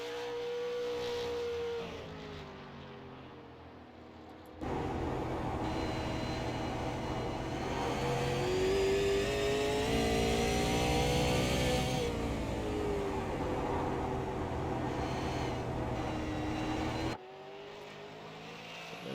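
A race car at the Thompson Super 50 drives a timed lap, its engine a loud sustained drone that rises and falls in pitch as it passes and recedes, with no talk.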